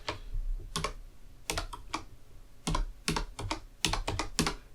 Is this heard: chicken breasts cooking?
no